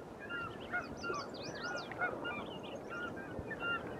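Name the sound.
ducks swimming on the water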